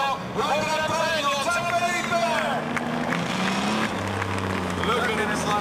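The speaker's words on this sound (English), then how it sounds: "Felipe Massa sulla 375, la prima Ferrari Formula 1 ad aver vinto un Gran Premio." A Ferrari 375, the first Ferrari Formula 1 car to win a Grand Prix, runs at a 60th-anniversary F1 demo. Its engine note rises and falls in continuous revving sweeps while voices talk over it.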